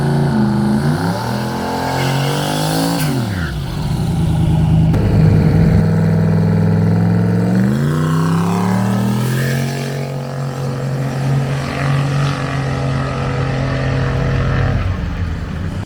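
A turbocharged 347 LS with Holley EFI and a single turbo, fitted in a Ford LTD, roars loud and close down a drag strip, its pitch climbing steeply, dropping at each gear shift, then climbing again.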